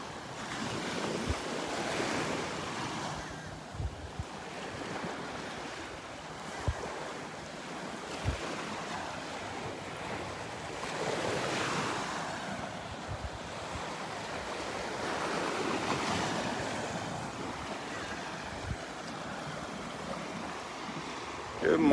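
Waves roll and wash steadily onto the beach at Delnor-Wiggins, with surf noise and gusts of wind buffeting the microphone throughout, nothing else prominent.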